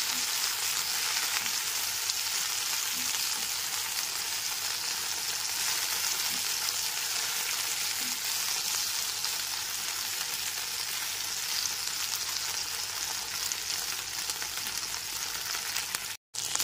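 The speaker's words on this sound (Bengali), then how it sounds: "গ্যাসের ফ্লেমটা লো টু মিডিয়ামে রেখে ভেন্ডির টুকরোগুলোকেও 3 থেকে 4 মিনিট ধরে হালকা লাল করে ভেজে নেব।" Okra pieces fry in a pan over a low to medium gas flame, holding a steady, even sizzle with a few faint stirring clicks. The sound cuts out briefly near the end, and no one speaks.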